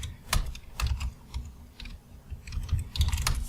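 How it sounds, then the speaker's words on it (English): Typing a password on a computer keyboard during a Hyper-V Server 2012 Core setup, a close, uneven burst of crisp key clicks with brief pauses and no voice. "Type a password for Chris."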